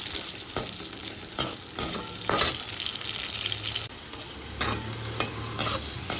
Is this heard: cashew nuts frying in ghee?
yes